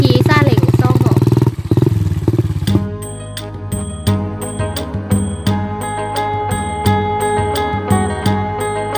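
A saleng motorcycle with a sidecar hauling rice harvest chugs and rattles loudly nearby, its engine running steadily with repeated clattering knocks from the load and frame, and people talk over the noise.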